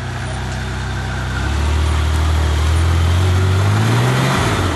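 An off-road vehicle's engine revs in low range on a slippery hill, a loud steady drone that swells and climbs in pitch before dropping off, close and alone.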